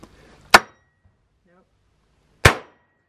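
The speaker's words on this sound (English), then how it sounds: "You put a bullet in it, and then you hit it, and it explodes and shoots it down into the cement" A powder-actuated nail gun driving nails into a concrete slab, two sharp loud bangs about two seconds apart with quick decaying rings, near and isolated against near silence.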